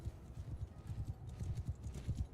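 Horse hooves galloping in the video game Bannerlord, a fast, rhythmic clip-clop of several hoofbeats at moderate distance, fairly soft and continuous throughout, with no voices.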